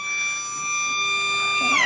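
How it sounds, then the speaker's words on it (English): A sustained siren at a country Australian rules football oval marking the end of an under-17s match, a loud steady electronic tone with stacked harmonics holding level before pitching down slightly at the very end. "as the siren sounds to end the under-17s match here"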